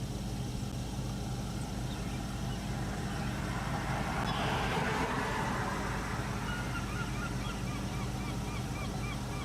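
Gulls call out in a busy, noisy outdoor scene as an eagle swoops in and snatches their food, the cries rising over a steady wash of background noise.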